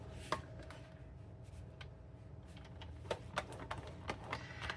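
A bone folder or scoring stylus pressing score lines into a sheet of cardstock for a stamped card box, giving faint scattered taps and short scrapes against a quiet, steady background.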